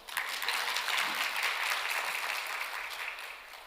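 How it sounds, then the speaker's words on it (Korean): Applause from an audience at a lecture or church class, a full, steady burst of many hands clapping that swells quickly and gradually fades toward the end. "우리 박수 칩시다."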